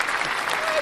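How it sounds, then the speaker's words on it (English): A short burst of steady clapping and cheering from a crowd, dense and continuous, close and fairly loud, with no pause for the whole moment. "let's get some applause in there"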